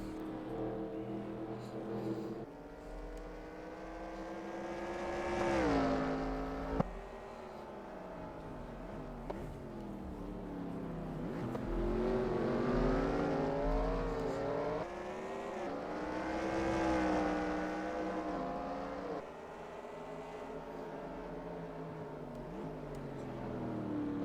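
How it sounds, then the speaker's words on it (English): Race cars lapping New Hampshire Motor Speedway during a 38-lap race, engines droning and shifting pitch continuously as the field exits the infield, at moderate distance and steady volume. "So as they come out of the infield, lap 12 of 38, Brent is still your leader."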